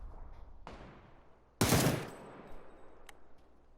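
Video game gunfire comes as a few sharp shots, one loud burst of rapid fire in the middle and fainter pops after it, with no voice.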